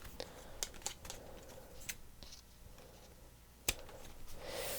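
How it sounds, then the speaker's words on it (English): Scissors snip off the excess craft cord on a handmade wallet-shaped mini album, a few short quiet clicks spread out, then one sharp close cut near the end. "you can just trim off the excess of that"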